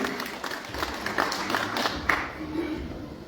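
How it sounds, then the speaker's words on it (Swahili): A church gathering breaks into a round of applause, many hands clapping in a dense, steady patter that fades toward the end, with voices faintly mixed in. "Tupigie John makofi mazuri"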